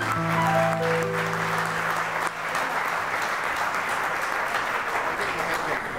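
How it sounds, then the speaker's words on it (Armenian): Wedding guests break into loud, sustained applause for the newlyweds at an Armenian wedding. A brief tonal voice or music fades at the start, then a steady crowd of clapping hands fills the rest evenly. "բարձր ծափերով շնորհավորենք նորապսակներին"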